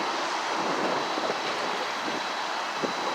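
High tide water flowing over a seawall along Morrissey Boulevard makes a steady broadband rush, with wind buffeting the microphone, continuous and fairly loud with no speech.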